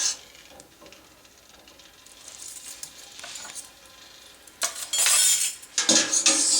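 Grated bar soap is stirred into liquid in a container, with close scraping and swishing strokes and light clinks that grow louder and more vigorous toward the end.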